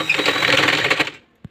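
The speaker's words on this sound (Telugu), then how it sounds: "మళ్ళీ డబల్ స్టిచ్ వేస్తున్నా" A sewing machine runs a double stitch along a frock seam for a beginner's dress, a steady rapid whirring rattle lasting about a second before stopping, followed by one short thump.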